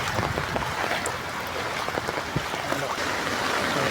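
During heavy, nonstop rain in Malaysia, rainwater from an overflowing drain pours into a company's work yard, making a loud, steady rush and splash of flowing water with no break.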